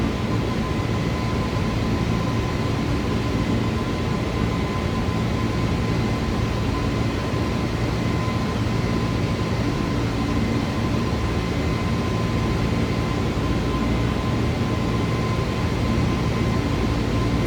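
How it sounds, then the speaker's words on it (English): Steady, broadband cabin drone of an Airbus A320neo in flight in Microsoft Flight Simulator 2020, a constant engine and air rush with a faint tonal hum, unchanging for the whole stretch and with no voices. "We're gonna hand fly this aircraft for a little bit, just to, you know, get a feel for it."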